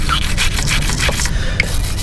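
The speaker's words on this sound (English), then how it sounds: "we can go in here and scrape a little bit" Close, steady scraping and rubbing on a corroded car battery terminal, a gritty abrasive sound that runs continuously for about two seconds with no talking.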